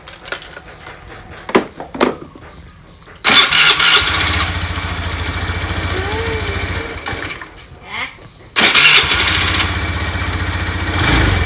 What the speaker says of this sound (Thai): เอาไม่ลองสตาร์ทก่อนเหรอว่ามันติดไม่ติด